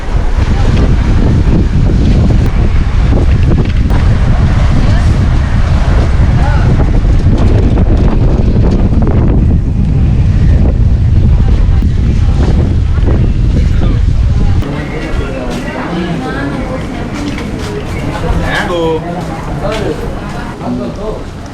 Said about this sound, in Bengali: পুরো ঝড়ের মতো হাওয়া দিচ্ছে